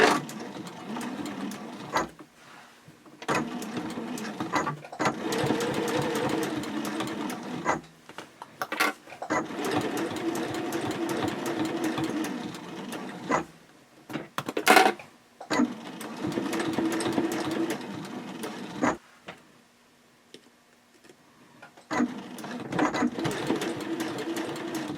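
A sewing machine runs in long steady bursts as it stitches a gusset seam on a sling, with short pauses between runs and a few clicks.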